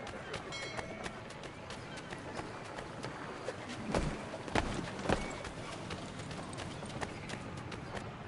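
Horse hooves clip-clop steadily at a trotting pace in the video game Assassin's Creed III Remastered, with a few louder thumps midway and faint voices murmuring in the background.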